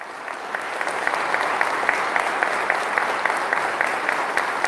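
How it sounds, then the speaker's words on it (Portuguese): A congregation applauds during a Catholic sermon, producing a dense, steady round of clapping with sharp individual claps that swells slightly and continues throughout, with no talk over it. "Aplauda Nossa Senhora, que isso é extraordinário."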